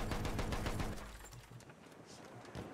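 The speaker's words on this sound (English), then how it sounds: "Why are you shooting at me?" Rapid bursts of video game gunfire crackle loudly at first, a fast string of shots that thins into quieter scattered pops and background noise with no voices.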